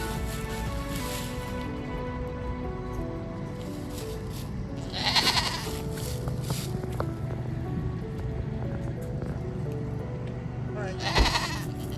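Full-grown Nigerian dwarf goats bleat twice on a homestead, short nasal cries several seconds apart, over a continuous rumbling background with music.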